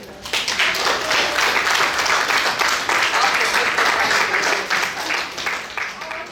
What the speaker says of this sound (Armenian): ապրեք, ծափահարեք։